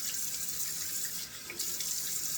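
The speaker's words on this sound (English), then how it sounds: "let's turn on the cold water here" Cold water runs steadily from a bathroom tap into a sink, a continuous near hissing splash with no talk.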